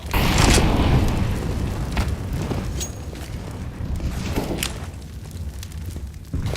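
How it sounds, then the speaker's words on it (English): A grenade goes off in a Counter-Strike: Global Offensive match, a loud booming blast at the start that settles into a rumbling wash of game noise with sharp cracks scattered through. "Grenade!"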